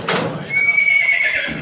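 A large horse at a hacienda campsite lets out a loud, close whinny that rises and trails off, with faint background voices.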